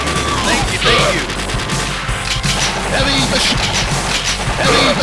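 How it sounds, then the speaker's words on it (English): Heavy machine gun fire in the arcade game Metal Slug X, rapid loud bursts mixed with explosions, crashes and game effects in a dense, continuous barrage. "Heavy machine gun."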